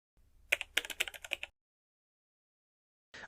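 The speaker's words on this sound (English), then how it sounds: "I can already hear the angry typing" A quick burst of sharp keyboard clacks, about a dozen keystrokes in rapid succession, then silence before a few more keys at the end.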